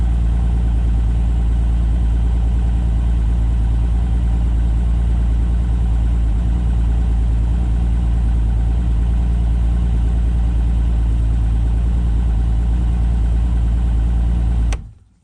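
Mercury Optimax 200 outboard engine idling steadily at close range, a loud, constant low rumble with no change in pitch, cutting off abruptly at the very end.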